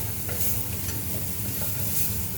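Chili and spices sauté in a pan for a tagine, a steady close sizzle with soft stirring scrapes running throughout, no voices.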